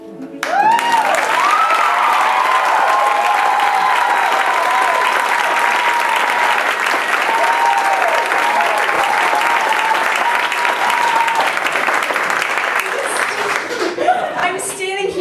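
A theatre audience at an awards event claps in a long, loud, continuous ovation with scattered laughter, cheers and voices underneath, tapering slightly near the end.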